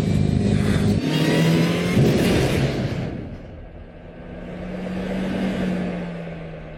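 A car engine revs hard and roars while being driven to wreckage, loud and close, the pitch surging and dropping as it accelerates, then easing back and building again; no talking.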